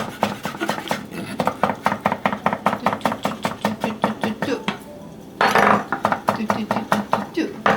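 Knife chopping bean sprouts and spinach on a cutting board, with steady, rapid, evenly spaced close taps that pause briefly before resuming.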